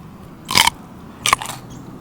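Two crisp, juicy crunches from biting into a small garden cucumber outdoors, close to the mic and about a second apart, over faint background hiss.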